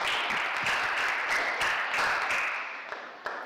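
Applause from a crowd at a talk on automotive acoustics: dense, continuous clapping that holds steady, then thins out and fades toward the end with a final stray clap.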